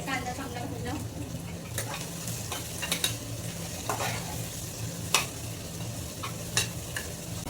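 Chopped onion sautés in a pan with a constant moderate sizzle, punctuated by periodic scraping clicks of a spatula; faint talking can be heard underneath.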